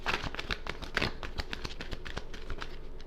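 Quick, crisp riffling and slapping of tarot cards being shuffled, a rapid patter of papery clicks at close range.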